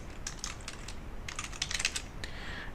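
Close computer keyboard typing while writing C# code for a tic-tac-toe game, in quick bursts of clicky keystrokes with short pauses between them.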